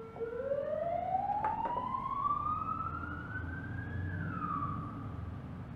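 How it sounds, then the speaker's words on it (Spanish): An emergency siren, ambulance or police car, passes through city streets, a single rising wail sweeping upward over several seconds, then dropping as it goes by, steady and moderately loud over low traffic rumble. "han pasado 3 ambulancias, o coches de policía, o lo que sea"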